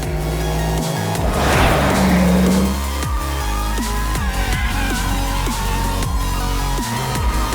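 A test car driven hard through handling manoeuvres on Goodyear tires, with a loud steady engine drone, revving and shifting, plus a brief tire squeal near the start, heard close with no voices.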